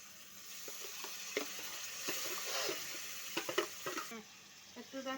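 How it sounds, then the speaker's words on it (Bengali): Onion paste cooking in a hot pan, with a soft, steady sizzle and scattered scraping and clinking from stirring, close and fairly quiet. "এখন আমি পেঁয়াজ বাটা দিব।"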